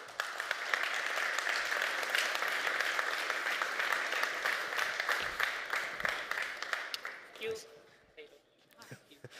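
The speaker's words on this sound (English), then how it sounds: "Give them a round of applause." Audience applause fills a live conference hall at Codegarden 2022 as a team is welcomed on stage, a dense steady clapping for about eight seconds that thins and fades near the end.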